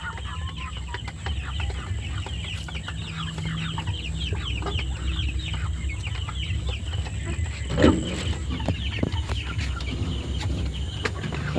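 Chickens (tiger-breed hens) on a small poultry farm cluck and squawk continuously at close to middle distance, a busy flock chattering over a low background hum, with one sharper squawk standing out midway.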